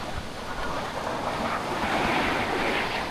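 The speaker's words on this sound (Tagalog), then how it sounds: "Yung dampi ng alon, maririnig mo." Ocean waves wash steadily onto a beach, a continuous broadband surf hiss with gentle swells, close and fairly loud, with some wind across the microphone and no talking.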